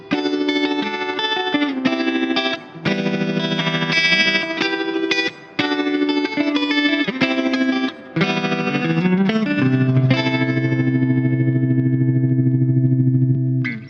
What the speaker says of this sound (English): let's make some Leslie sounds